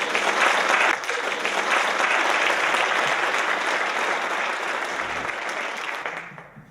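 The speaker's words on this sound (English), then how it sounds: "Let's have a big round of applause for Shea." A large investor-panel audience claps steadily and loudly for several seconds, a dense wash of applause that fades out near the end.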